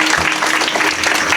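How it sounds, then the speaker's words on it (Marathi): An audience clapping during a Marathi kirtan, a brief burst of dense, steady applause from many hands, close and loud. "कीर्तनात टाळी वाजलेली चांगली असती"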